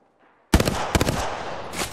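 Video game gunfire: a sudden burst of close, loud shots after half a second of near silence, followed by a second sharp volley and a lingering rattle of fire.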